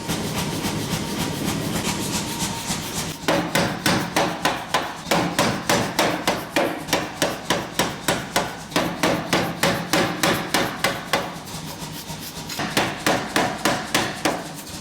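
Hammer blows on a hot feather-pattern Damascus steel billet during a final heat to set the forge weld, ringing in a rapid steady rhythm after a stretch of roaring forge noise, loud and close with no talk.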